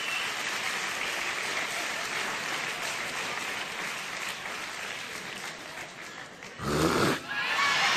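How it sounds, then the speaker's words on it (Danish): Audience applause at a live comedy show, steady crowd clapping that runs throughout and swells to a louder burst near the end. "jeg vil ikke have det der klapperi"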